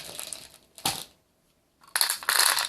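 Rounds of .22 LR ammunition being dropped into a Lightnin' Grip magazine loader, producing two bursts of clattering, rattling metallic clicks close up, separated by a brief silent gap.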